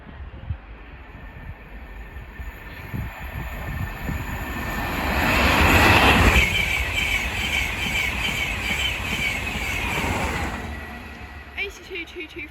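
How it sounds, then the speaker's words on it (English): An LNER InterCity 225 set, with class 91 91107, passes on the East Coast Main Line at Hitchin on its Leeds to London King's Cross run: a broad rushing roar that swells to a loud peak midway, holds, then eases off. "The next train to pass by is going to be the third LNER 225 set of the video from Leeds to London"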